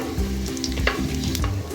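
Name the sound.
cumin seeds sizzling in hot ghee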